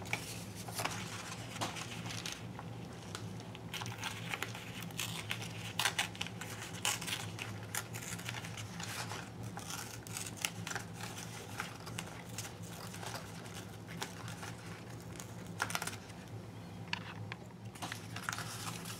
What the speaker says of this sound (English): I'm just going to go around and I'm just going to tear it